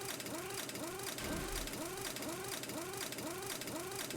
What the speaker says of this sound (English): you can take apart working vending machines with the HD impact wrench